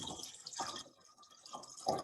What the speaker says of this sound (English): and then drain again